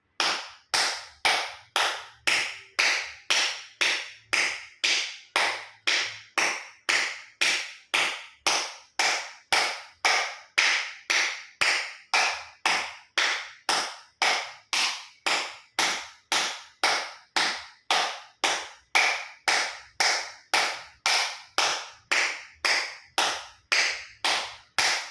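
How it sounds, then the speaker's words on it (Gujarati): Acupressure clapping with full palms and fingers meeting, about fifty sharp, loud claps in a steady, even rhythm, each one crisp and close, with near silence in between. "એક્યુપ્રેશર તાળી પૂરેપૂરી હથેળી આંગળીઓ બધું ટચ થાય એ રીતે 50 વખત તાળી આપીશું"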